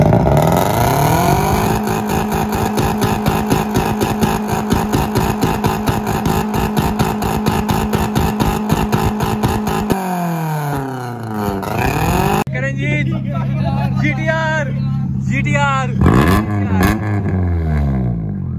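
A car with a flame kit and pop kit exhaust revs hard and bounces off the rev limiter in a rapid stuttering rhythm, then sharp exhaust pops and crackles follow as the revs drop. Loud and close, with a voice briefly heard.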